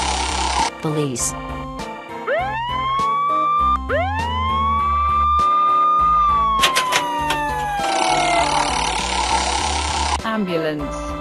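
Toy police car siren from a children's vehicle-figurine game, several wailing rising-and-falling sweeps rising over a busy musical backing, loud and close.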